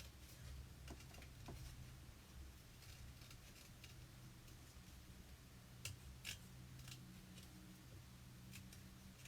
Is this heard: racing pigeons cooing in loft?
no